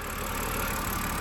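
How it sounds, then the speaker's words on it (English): A BMW E90 325i with the N52 2.5-litre six-cylinder runs at a steady idle, close and continuous, during a power steering flush. "started the engine"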